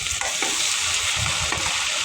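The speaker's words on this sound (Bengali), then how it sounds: "একটু লাল লাল করে ভেজে নেব। এর জন্য আমি ভালোভাবে নেড়ে চেড়ে দিচ্ছি।" Chicken pieces frying in oil while being stirred for a chicken and bottle gourd dish, a dense steady sizzle with occasional scraping stir sounds, close up and without talk.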